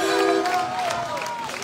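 Applause and cheering from the audience at an outdoor singing festival in Volturara Irpina, a steady wash of clapping with voices and whistles over it, continuous and fairly close.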